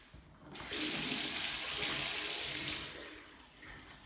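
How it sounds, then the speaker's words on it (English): A household tap opened to release pressure in the plumbing, water rushing out in a steady close splash that swells after a brief pause, holds, then tapers slightly. "turn on the tap and release the pressure in the system"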